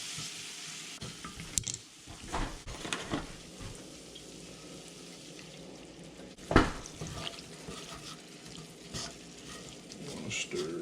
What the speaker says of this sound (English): Let that cook down, and then we're going to add some milk.